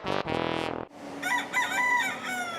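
Chickens roaming a community garden in the St. Roch neighborhood at dusk, with a loud, close, harmonic rooster-like call up front, then a lighter stretch of high, chirpy clucks and bird calls over faint background noise.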